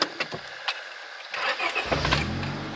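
A Honda car engine cranks and catches after a few quiet clicks, then settles into a steady low idle that fills the rest of the short clip close by.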